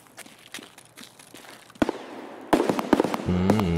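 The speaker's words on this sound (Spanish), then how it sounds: "ese es el NPC. Le está disparando a alguien más" Gunfire from an NPC in the Escape From Tarkov video game, a string of sharp cracks and bangs with some distant and some louder and closer, ending under a steady low hum.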